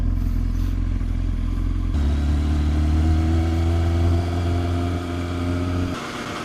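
Kawasaki ZX10R motorcycle on an evening ride, its engine a steady loud drone that rises and settles as the bike changes speed, with continuous road and wind noise.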